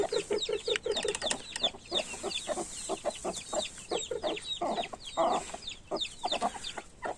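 Chickens cluck continuously nearby, a busy overlapping chorus of short calls and chirps from several birds, with no talking.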